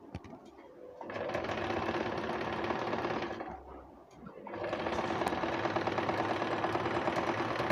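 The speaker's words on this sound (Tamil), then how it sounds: "முடிக்கிறப்ப ஃப்ரண்ட் அண்ட் பேக் ஸ்டிச்சிங் போட்டுட்டு முடிங்க." A sewing machine stitches a panel skirt in two long, steady runs of rapid mechanical whirring, with a brief pause in between. The machine is close and fairly loud, and no voices are heard.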